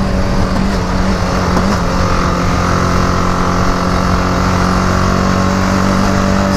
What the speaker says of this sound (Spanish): Qué gran moto, ¿eh?